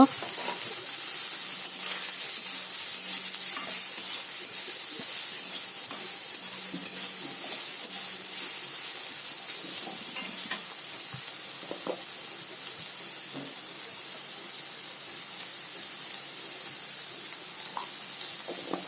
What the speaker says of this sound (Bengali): এই তেলের মধ্যে কিছুটা নুন দিয়ে সয়াবিনগুলোকে একটু ভেজে নেব।